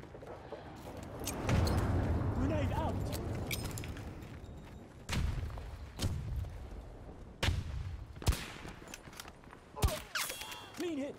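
In Battlefield 2042 gameplay, a grenade blast booms and rumbles, followed by several sharp gunshots and thuds spread across the stretch. They sound close and moderately loud over the game's background ambience.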